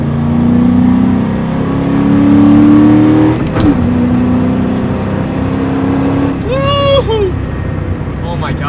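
Ford Mustang Mach 1 engine revving and pulling hard through the gears, loud and close, with a rising note, a sharp shift near the middle and a whooping voice near the end.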